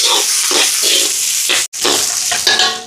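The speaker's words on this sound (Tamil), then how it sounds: "இப்போ வெங்காயமெல்லாம் நல்லா வதங்கட்டுக்கும்." Onions fry with green chilies, garlic, curry leaves and fenugreek seeds as the base for a fish curry. A spoon scrapes and stirs close up in rhythm over a loud, constant sizzle that cuts out for an instant midway.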